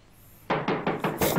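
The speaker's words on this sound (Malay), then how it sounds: "Ah, ketuk kuat sikit," Five firm knocks on a door in a Malay comedy film, evenly spaced and loud, following a brief quiet moment.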